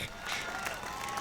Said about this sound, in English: The audience erupted in applause